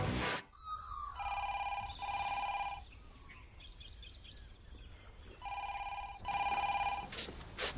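An old-style telephone bell ringing indoors in bursts, two double rings, a pause with faint bird chirps, then two more double rings.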